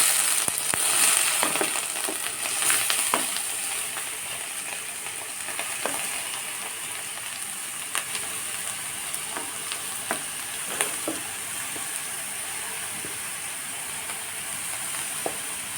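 Grated carrot frying in ghee gives a steady, close sizzle with a bright hiss, broken by scattered crackles and the scrape of stirring, with no voices.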